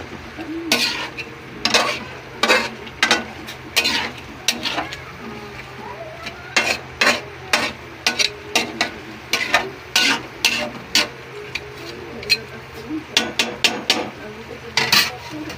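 Stir-frying with oyster sauce and chili: a metal utensil scrapes and clanks against the pan in irregular bursts over a low steady sizzle, close and fairly loud, with no talking.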